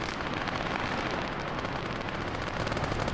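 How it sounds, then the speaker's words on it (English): Sustained, dense gunfire from several machine guns in a trench-warfare video game, loud and continuous with rapid overlapping bursts and no pauses throughout. "already multiple machine guns coming around"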